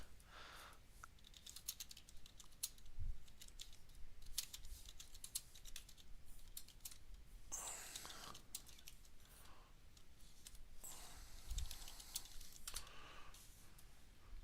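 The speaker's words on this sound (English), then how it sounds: "Forgive my typing." Keyboard typing during a space combat game session, a steady run of quiet clicky keystrokes with brief pauses, fairly close and low in level, with no talk over it.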